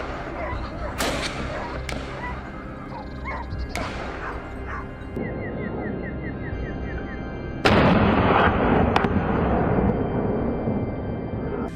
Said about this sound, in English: where gunshots rang out to finish the job